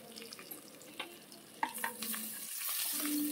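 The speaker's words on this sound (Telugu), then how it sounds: "కొద్దిగా సాజీర వేసుకొని ఆనియన్స్, పచ్చిమిర్చి, పుదీనా, కొద్దిగా హోల్ గ్రామ్ మసాలా, కొంచెం పసుపు అన్నీ వేసుకొని ఫ్రై చేసుకోవాలి" Onions, green chillies, mint, shahi jeera, whole garam masala and turmeric frying in oil for mutton curry, a soft steady sizzle with a few light stirring clicks and a brighter hiss rising toward the end.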